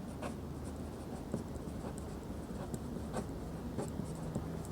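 Chalk or marker writing on a board during a diploma engineering mathematics lesson, a steady run of light scratchy strokes and taps across the whole stretch with no talk over it.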